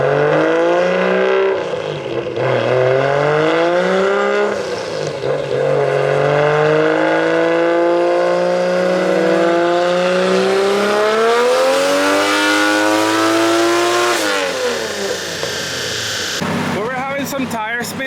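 A big-boost 2JZ-powered BMW E36 on a dyno revs hard and loud, its pitch climbing and dipping through long sustained pulls before cutting off near the end.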